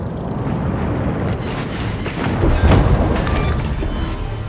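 A heavy, sustained rumbling boom fills the scene as an enemy cruiser is destroyed during a World of Warships naval battle with the Thunderer, loud and continuous with a swelling burst midway.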